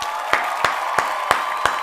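Five sharp, evenly spaced hand claps from one person, close and fairly loud over a steady background hiss, applauding football player Christian Watson.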